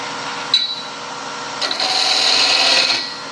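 A parting tool cuts into spinning wood on a lathe during spindle turning, giving a steady high scraping whine that rises as the tool is pushed forward, then falls away near the end.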